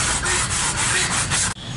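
A rusty iron kadai being scrubbed with Vim liquid, steady close abrasive rubbing strokes in a rapid rhythm that stop abruptly near the end.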